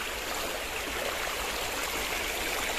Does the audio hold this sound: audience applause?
no